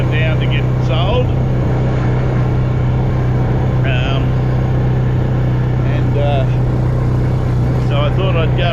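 A car drives along a dusty side street, its low engine drone holding steady the whole time while someone talks over it.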